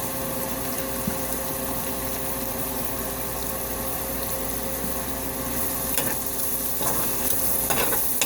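Chopped onion sizzling steadily in a hot pan over medium-high heat for vegetable fried rice, a loud continuous frying hiss with occasional stirring scrapes near the end.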